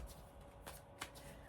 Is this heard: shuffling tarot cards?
yes